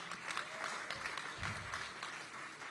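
A speech audience at a gala in San Francisco breaks into sustained applause, a dense wash of clapping hands with scattered cheers, heard from a moderate distance.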